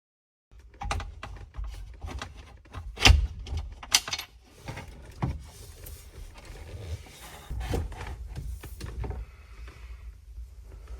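Phillips screws being worked out of the lower windshield wiper control module on a 1966 Lincoln Continental, with small close metallic clicks, taps and tool rattles in irregular bursts, quiet and sparse with no talking.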